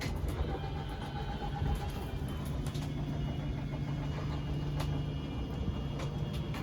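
An electric motor extends the slide-out room of an Avenger 24BHS travel trailer, giving a steady low mechanical hum and whir that runs continuously without pause.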